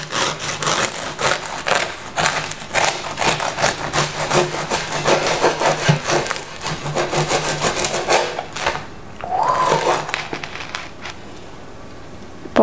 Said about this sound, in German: So, und ich schneide mal die Kruste an.